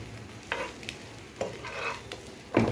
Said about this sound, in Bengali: পাউরুটি আর ডিম ভাজাটা দেখেন অনেক ফ্রাই হয়ে গেছে